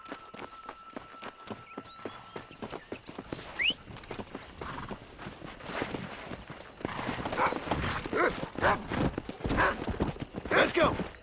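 Horse hooves clip-clop steadily in Red Dead Redemption, the rhythm quickening and growing louder toward a gallop, with a whinny and people talking over the hoofbeats.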